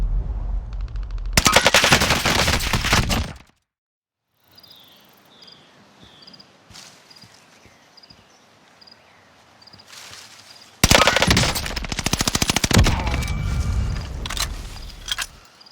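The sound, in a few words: Bren light machine gun firing in Call of Duty: Warzone video game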